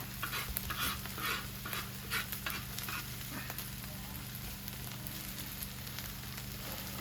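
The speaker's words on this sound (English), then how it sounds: "You don't need to scramble it up outside the pan, just kind of scramble it up right inside." Egg scrambled with a spatula right inside a pan of fried rice, a wild duck fried rice dish, with steady low sizzling and soft scraping stirs throughout, fairly quiet and close.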